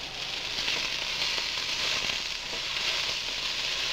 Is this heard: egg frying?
yes